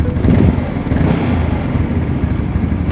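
A Yamaha Mio Sporty scooter fitted with a PE 24 carburetor, its engine catching and settling into a loud, steady, close idle with a slightly uneven throb.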